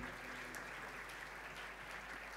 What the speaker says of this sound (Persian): خواهش میکنم تشویقشون بکنین